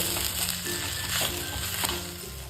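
Spiced greens with kitchen king masala and dried mango powder are stirred in a pan, giving a continuous close sizzle with repeated scraping strokes and no speech.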